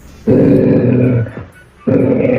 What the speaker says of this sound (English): Why is he growling at me like that?